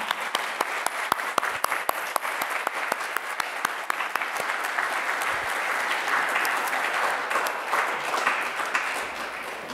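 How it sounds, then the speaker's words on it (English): An audience at a high school presentation day ceremony breaks into applause, starting with distinct claps that swell into a steady, fairly distant round of clapping. "Give me a round of applause, please."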